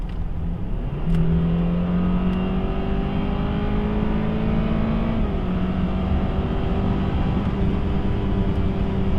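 A BMW 3 Series F30 two-litre four-cylinder engine revs and accelerates hard, its droning pitch climbing steadily and loud throughout, with no one speaking.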